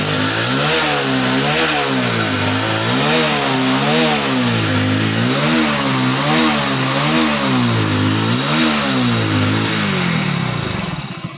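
Engine of a Hero HF Deluxe BS6 motorcycle with a misfiring and pickup problem, held at full throttle: a loud, continuous buzzing drone that wavers in a regular rhythmic pulse and then drops off at the end.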